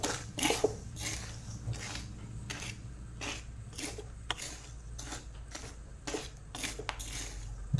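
Chickpeas roasting with salt in a pan over a high gas flame give a quiet, irregular series of sharp scraping and rattling bursts about once or twice a second, faint under the low hiss of the burner.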